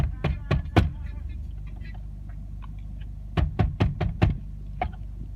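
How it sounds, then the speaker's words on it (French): Knuckles rapping on a door, a quick cluster of three sharp knocks, a pause, then a faster burst of four or five knocks and one last tap, loud and close over a low background rumble. "C'est quand même pas des profanes qui toquent à la porte."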